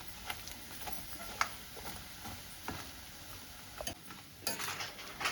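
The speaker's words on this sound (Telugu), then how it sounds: "ఇదిగోండి, కొబ్బరి ముక్కలు కూడా చక్కగా ఫ్రై అవుతున్నాయి" Coconut pieces frying in a pan for kobbari pachhadi, a soft low sizzle broken by light spoon clinks and scrapes, with a brief louder burst near the end.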